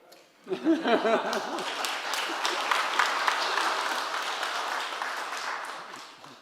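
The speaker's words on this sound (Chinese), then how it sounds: "你要我们大家帮你鼓掌吗" A church congregation breaks into warm applause after a moment of quiet talk, sustained clapping that slowly fades, with a little laughter mixed in.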